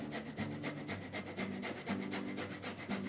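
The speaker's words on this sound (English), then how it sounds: "grab a zester or a microplane or a really fine grater, and we're gonna grate about 3 teaspoons worth of fresh ginger." Fresh ginger rasped on a fine microplane grater, a steady series of rhythmic scraping strokes roughly every half second, close and clear with no talking.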